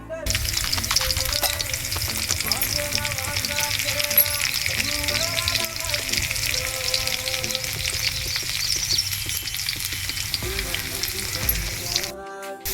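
Cumin, garlic and onion fry in hot oil for a traditional village-style safflower-leaf (kardi) bhaji, giving a steady, close sizzle with occasional stirring scrapes throughout, and no one speaks over it.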